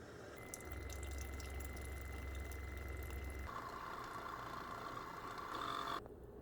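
Single-serve K-cup coffee machine brewing, a steady pumping hum with hissing, trickling flow that shifts pitch midway and cuts off abruptly near the end, loud and close with no talking.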